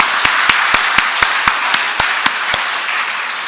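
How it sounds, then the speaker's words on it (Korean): During a Sunday revival meeting, a congregation claps for the church choir in a regular, evenly spaced beat of sharp claps over a bed of scattered applause, close and loud before tapering off. "우리 찬양대 참 잘했습니다. 박수 한번 하십시다."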